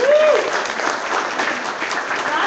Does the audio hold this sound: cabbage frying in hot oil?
no